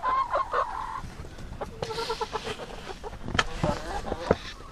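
Farm chickens cluck in short bursts close by in a snowy yard, a few soft calls scattered over a quiet background with occasional faint movement sounds.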